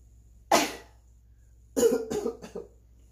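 A single sharp cough, a pause, then a burst of several quick coughs, close and distinct against a quiet background.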